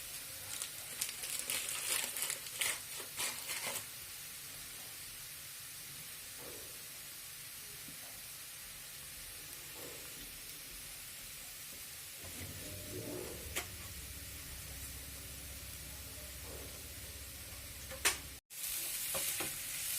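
Butter garlic noodles with black pepper being stirred in a hot pan, a steady sizzle with scraping stir strokes, louder and busier early on, then a quieter, lower frying hiss.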